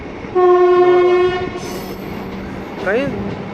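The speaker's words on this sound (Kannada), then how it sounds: "ಈ ಟ್ರೈನ್ ತುಂಬ ಸ್ಪೀಡ್ ಇದೆ ಗುರು." A MEMU express electric passenger train sounds a loud sustained horn blast near the start, then runs on with rumbling wheels and a brief squeal of rails, with no talk.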